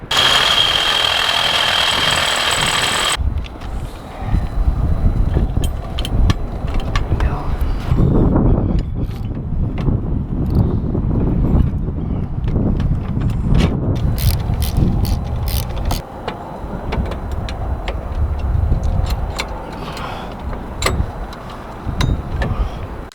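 A power drill grinds out the seized front landing gear on an RV trailer in steady, loud ratcheting bursts that continue for about twenty seconds, beginning after a short stretch of other noise.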